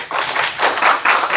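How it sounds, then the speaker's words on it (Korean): An audience at a public hospital policy forum claps in steady, dense applause, fairly close and without talk. "박수 부탁드리겠습니다."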